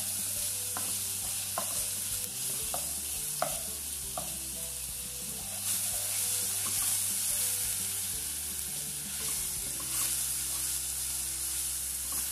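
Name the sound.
garlic cloves frying in hot oil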